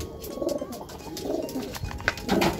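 A racing pigeon just back at its loft coos in soft, repeated low throaty phrases, close by, with faint rustling and background chatter of other birds.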